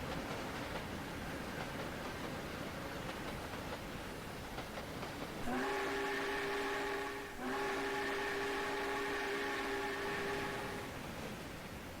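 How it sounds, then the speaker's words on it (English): Steam train whistle in a video game, crossing a mountain pass: one long, steady, multi-tone blast that breaks briefly in the middle, sounding over a constant rolling rumble of the train. "Blowing the whistle for nobody."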